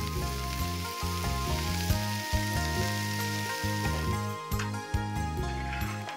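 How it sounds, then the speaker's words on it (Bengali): Oil poured into a pan over low heat sizzles with a close, continuous crackling hiss, while rhythmic music plays prominently underneath. "অল্প আঁচে রেখে একটু নেড়েচেড়ে ঢেলে দেয়া হলো পরিমাণ মতো তেল।"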